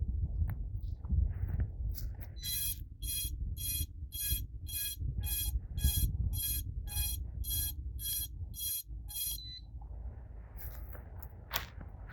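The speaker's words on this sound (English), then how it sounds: "it goes beep, beep, beep, beep, beep." A steady run of about a dozen evenly spaced electronic beeps, fairly clear over low background rumble and shuffling, then stopping.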